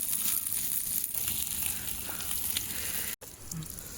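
Prawns fry outdoors in the Badlapur hills in a steady, close sizzle, with crackling and scraping as they are stirred and a brief drop near the end.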